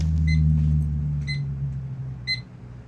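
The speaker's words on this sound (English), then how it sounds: "That's my alarm." A phone alarm gives three short, evenly spaced electronic beeps about a second apart. They sound thin and moderately faint over a steady low rumbling hum.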